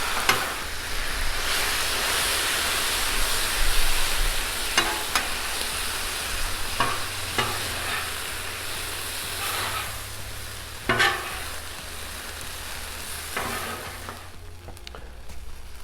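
Chicken chow mein with minced garlic sizzles on a Blackstone griddle, a broad steady frying hiss with occasional sharp spatula clacks and scrapes, slowly fading over time, with no voices.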